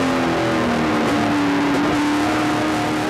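Race cars at the 2008 GP3R 100 roar around the track, a steady loud engine drone with a pitch that slides and swells as cars accelerate and pass.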